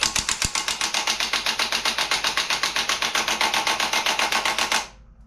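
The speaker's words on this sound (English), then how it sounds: "Impact will take it off without spinning it." Impact wrench on a low setting removing a nut during engine and transmission removal on a Chevelle restomod, a loud, close, steady rapid hammering rattle lasting about five seconds before cutting off abruptly.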